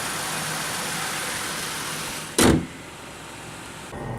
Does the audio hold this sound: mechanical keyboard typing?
no